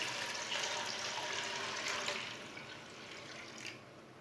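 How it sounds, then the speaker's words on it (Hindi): Glasses of water poured into a pot of washed, unsoaked chana dal: steady splashing and gushing that runs the whole time, fairly close, with no talking. "दाल डाल लेंगे, 4 गिलास पानी डाल लेंगे।"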